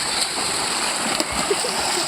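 Water from a tubewell splashes and churns continuously nearby, a broad rushing spray with a few sharper slaps standing out.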